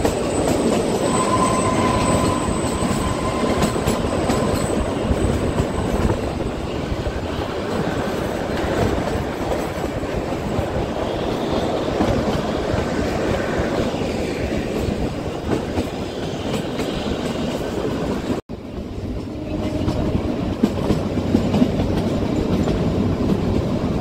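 Kalka–Shimla toy train (Himalayan Queen Express) rolling steadily on narrow-gauge mountain rails, a continuous close rumble of wheels with faint clickety-clack and occasional squeal, briefly dipping before carrying on.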